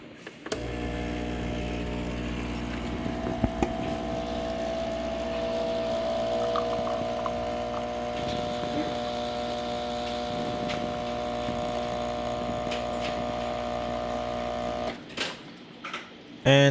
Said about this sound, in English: Now that it's done rinsing, let's do a test brew for the first time.